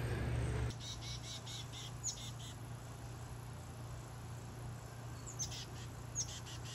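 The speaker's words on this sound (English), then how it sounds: "I found a couple different species of birds here." A few sparse, high bird chirps scattered over a steady low hum and outdoor hiss, faint and somewhat distant.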